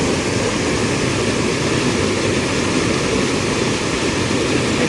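Rushing stream water in full monsoon flow at a spot for catching upstream-migrating fish, a loud, constant broadband roar close by with no break and no voices.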